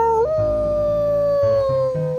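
A person imitating a wolf howl with the voice, a long sustained mournful tone that slides up at the start, holds steadily, then wavers near the end, loud and close with no other sounds.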